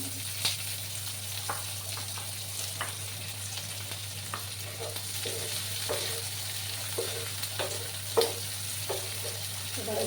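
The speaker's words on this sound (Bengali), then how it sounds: "দুটো পেঁয়াজ আর চার পাঁচ ফোট রসুন কেটে রেখেছিলাম সেগুলো এবার দিয়ে দিলাম" Onion and garlic frying in a pan with cumin seeds, a steady close sizzle throughout with occasional stirring scrapes and clicks, no talking.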